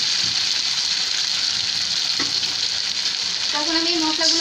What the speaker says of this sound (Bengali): তখন আমি এই মশলাগুলোকে খুব ভালো করে ভাজবো